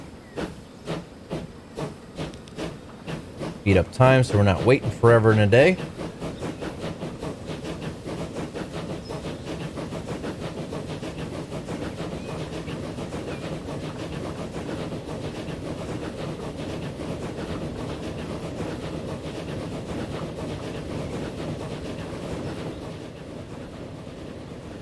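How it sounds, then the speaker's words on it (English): A train runs along a track in the Transport Fever 2 game. A steady, fairly faint rolling rumble and hiss carry through, with a louder mechanical burst near the start, and someone talks briefly over it. "And then we'll follow this train here."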